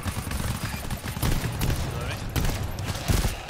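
Dense, rapid gunfire rings out during a co-op firefight against chargers in the video game GTFO, sustained and loud throughout with a few heavier shots standing out, while voices talk underneath.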